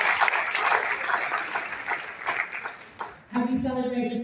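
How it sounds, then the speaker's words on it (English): An audience at a graduation ceremony for a young professionals program applauds, a dense wash of clapping that thins and fades before a voice begins to speak at the end. "I want to pause there just to give another clap"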